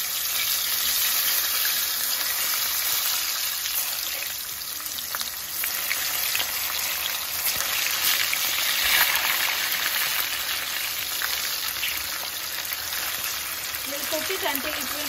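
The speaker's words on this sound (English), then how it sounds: "So I keep the oil on the gas. It's all hot already. We'll just drop the bangan there," Stuffed eggplants for Kashmiri baingan fry in hot oil in a pan on a gas stove. A dense, loud, continuous frying sizzle fills the clip, with a faint voice briefly near the end.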